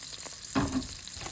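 Zucchini frying in vegan butter and a sunflower and extra virgin olive oil blend, giving a soft, steady sizzle with a brief louder crackle partway through, close and faint.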